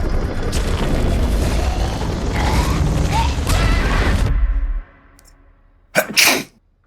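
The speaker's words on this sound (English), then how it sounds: "I got so confused I sneezed my brain out." A single loud, sharp sneeze bursts out after a stretch of steady noise and a brief hush.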